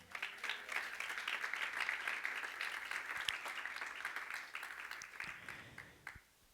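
A church congregation claps hands in praise, a fairly dense, uneven stretch of clapping that thins and tapers toward the end.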